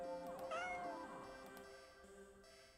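A cat in the horror game Do NOT Take This Cat Home gives a drawn-out, wavering meow that rises and then fades, heard clearly and alone over quiet background tones.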